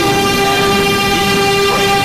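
A Manhattan-bound New York subway 2 train, loud and continuous, with a steady tonal whine over a low rumble and no pauses.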